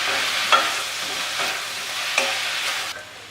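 Prawns in Schezwan sauce are stirred in a hot pan, with a steady sizzle and a few distinct scraping strokes of the spatula, close and clear with no talk.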